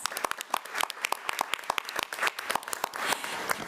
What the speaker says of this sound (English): So let's give Mr. Crimley another round of applause